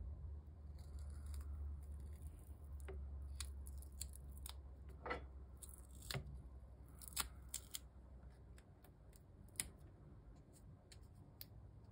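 Scissors snip through sticky foam tape in a series of close, crisp clicks and cuts, spaced irregularly over a low background hum.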